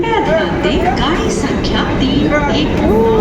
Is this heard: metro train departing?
yes